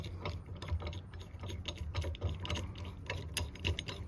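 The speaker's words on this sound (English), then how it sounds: "This screw on the bottom, you just tighten it." A screw is tightened on the bottom of a tow hitch anti-rattle clamp, giving quiet, irregular ratcheting clicks from a hand tool close by, with short pauses between strokes.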